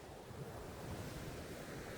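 Ocean waves washing onto a beach in Pohang, South Korea, a continuous dense surf roar mixed with wind buffeting the microphone, steady and fairly faint, with no voices.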